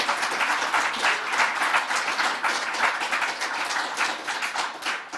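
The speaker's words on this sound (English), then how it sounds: "Please give her a round of applause." Audience applause at a talk event for a First Peoples Assembly of Victoria co-chair, a lively, sustained patter of many hands clapping at an even level with no talk.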